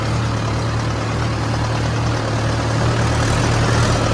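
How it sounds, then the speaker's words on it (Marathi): A stuck tractor's engine idles with a loud, steady low drone and a constant hum that does not change, with no voices over it. "ट्रॅक्टर मस्त पैकी फसलेला"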